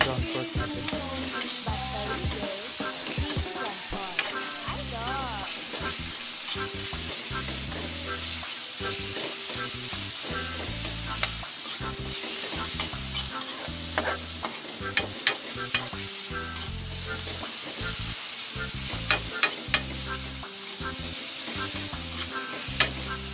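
Ground pork browning in a hot pan for homemade spaghetti sauce, a continuous close sizzle broken by repeated scraping stirs and occasional sharp spatters.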